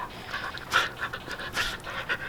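A dog pants rapidly nearby, quick rhythmic breaths in and out, fairly soft with no other sounds.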